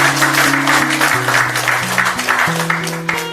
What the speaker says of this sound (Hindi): इनके लिए ताली बजाओ भाई।